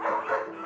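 Dogs used in a stem-cell tooth implantation study make a short, continuous harmonic vocalisation, a brief bark or yelp sustained for under a second at moderate loudness.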